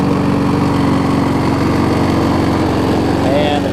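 A well-used Honda push lawn mower engine runs loud and close at a steady, even idle-like drone throughout.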